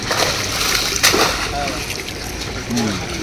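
A fishing net is hauled out of a pond, churning the water into loud splashes and sloshing at close range, with voices talking over it.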